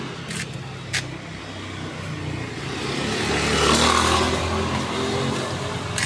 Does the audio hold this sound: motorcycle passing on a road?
yes